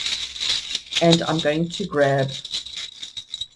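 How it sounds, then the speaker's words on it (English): A deck of oracle cards shuffled by hand, a continuous papery rattling throughout with someone talking over it. "it is a little bit noisy while I stick my hand in and shuffle"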